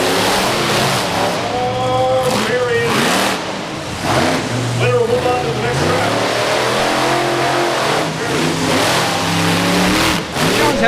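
Monster trucks racing at the Indiana State Fair in Indianapolis, loud engines revving and surging in repeated rising and falling sweeps, with an announcer talking over the roar.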